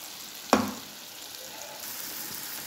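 Already-fried paneer pieces drop into a frying pan of hot spiced ghee with one sharp hit, then settle into a steady, close sizzle that continues for a couple of seconds.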